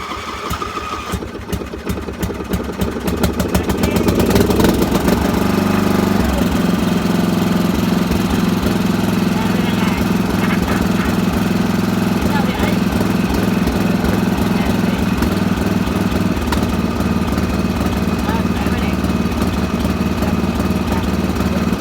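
A ride-on lawn mower engine being started with the choke on: after a few seconds of cranking it catches and settles into a steady, loud running drone that continues close by without talk.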